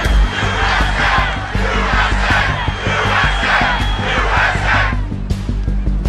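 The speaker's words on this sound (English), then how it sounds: "The crowd starts to chant." Crowd at a Trump rally chanting in a loud rhythmic pattern of repeated shouted phrases, about six beats over several seconds, under steady background rumble.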